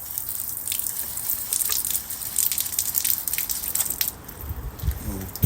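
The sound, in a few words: water running through a Halfords pressure washer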